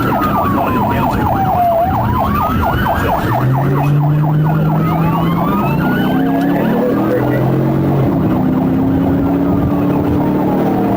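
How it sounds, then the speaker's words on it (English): Several police sirens wail and yelp at once during a high-speed chase, overlapping rising and falling tones, loud and continuous with road noise underneath. "sirens blaring."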